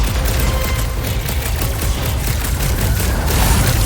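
Rapid, dense gunfire from combat in the video game Marvel's Guardians of the Galaxy, a loud continuous barrage of shots and impacts with booming hits running the whole stretch, without speech.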